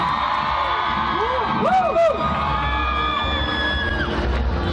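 A loud live concert crowd at a Thai performance by a boy band cheers, whoops and yells continuously, with dense crowd noise and music tones running throughout.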